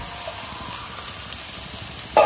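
Crab added to sizzling tomato masala in a pan, a soft, steady frying hiss with faint crackles, ending in a brief louder clatter.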